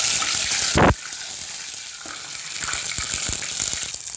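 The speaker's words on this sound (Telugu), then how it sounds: "ఇదిగో ఇడ్లీ నూనెలో ఫ్రై చేస్తున్నానండి." Idli pieces fry in hot oil with a steady, close sizzling hiss that continues throughout, briefly interrupted by a louder clatter or splash early on, followed by light scattered pops and stirring sounds.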